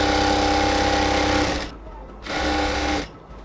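A sewing machine stitches a pant salwar, running in loud steady bursts with a brief pause between two runs of continuous mechanical whirring.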